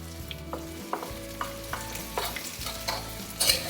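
Vegetables and potatoes sizzle and fry in a pan, with intermittent scraping and stirring clatters from a utensil throughout.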